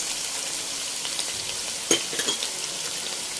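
Minced beef sizzles steadily in a hot pan while sauces are poured in for Thai pad kra pao, a soft continuous frying hiss broken by a few brief sharper crackles and a light stir.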